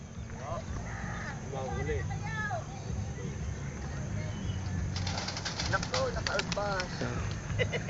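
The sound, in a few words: racing pigeons during training release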